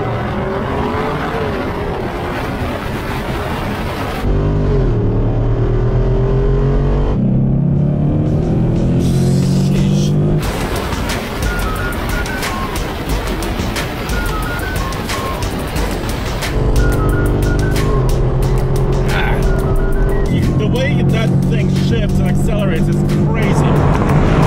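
Jeep Wrangler 392 V8 in a rolling drag race against a Ford Mustang GT: a long, loud stretch of hard acceleration heard from inside the cabin, with rising engine pitch, abrupt gear shifts and downshifts, and people talking throughout.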